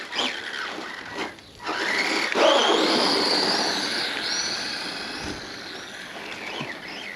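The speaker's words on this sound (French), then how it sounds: "Alors là, ça patine pas mal parce que c'est des petits graviers." A T2M Puncher 2 or Pirate Zombie RC car spins its wheels on small gravel, giving a near, steady grinding hiss with rising whine-like squeals that lasts several seconds after a brief pause.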